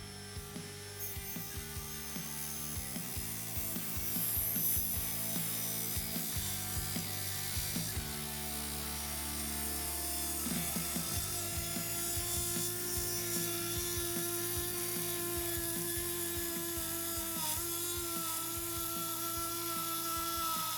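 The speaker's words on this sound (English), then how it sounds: "I'm going to take this cutting wheel and cut all along the side of this 2x4 to see if it maintains the RPMs." Dremel 8260 brushless rotary tool with a cutting wheel sawing along the side of a 2x4, a loud continuous high-pitched whine with a gritty buzzing edge, close and steady for the whole stretch with no talking.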